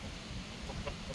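Faint, brief cackling of geese, a short burst of calls rising near the end against a steady background hiss.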